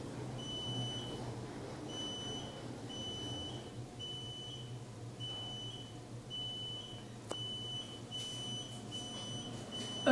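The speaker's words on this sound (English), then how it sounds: "that beep is getting annoying" A high electronic beep repeats at a steady interval, each tone short and piercing, over a low constant hum, inside a Mitsubishi traction elevator.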